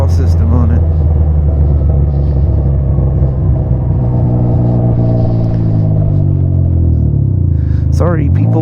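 Loud, rumbling exhaust from a 2021 Can-Am Ryker Rally idling and revving outdoors, with a deep, throaty drone that rises and falls; the machine sounds close and drowns out everything else.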